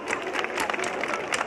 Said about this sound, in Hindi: जोरदार तालियों के बीच स्वागत कीजिए ज्वाला प्रसाद जी का